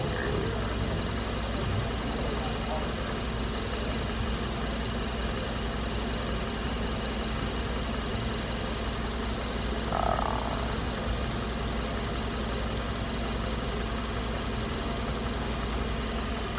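A car engine idling steadily during a tailpipe emissions test, a constant low rumble with a faint hum, and a brief chirp about midway.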